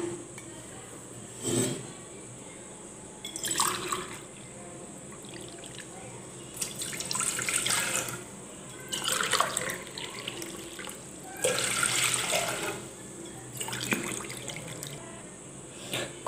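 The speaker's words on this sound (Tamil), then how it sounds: "இப்போ இந்த கப்புக்கு வந்து 3 கப் அளவு நான் தண்ணி சேர்க்குறேங்க." Tap water runs in bursts into a cup for homemade lemon lolly ice cream, several splashing pours separated by pauses, with faint clinks of dishes in a quiet kitchen.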